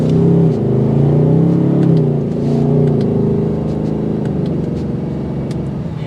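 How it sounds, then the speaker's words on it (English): A 2024 Ford Mustang GT Premium V8 rumbles with a deep, steady exhaust drone, close and loud, its pitch rising slightly then settling into a smooth, even cruise with no talk over it. "I'm liking what I hear that's coming out of that exhaust"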